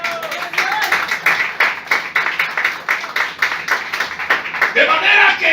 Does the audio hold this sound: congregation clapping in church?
yes